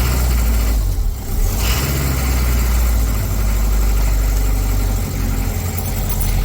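A 1979 Toyota BJ40 engine with a hand throttle, heard running at a steady, loud idle close by, a low rumbling chug with a brief dip near the start and again late.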